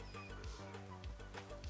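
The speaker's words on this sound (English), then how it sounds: "Kinda feel bad for the chicken." A video game chicken clucks in a series of short, repeated clucks at steady intervals, close and fairly clear, with no talking.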